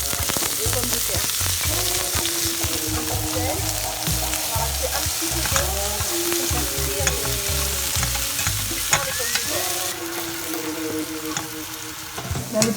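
Cabbage, carrots and potatoes fry in a pan for gomen, with a steady loud sizzle and the occasional scrape of stirring throughout.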